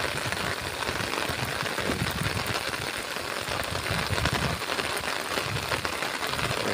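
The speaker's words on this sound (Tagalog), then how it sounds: "Kalakas pa ng ulan" Heavy rain pours steadily during a typhoon beside a river in Tarlac, a dense, continuous hiss of drops striking surfaces close by, unbroken for several seconds with no voices.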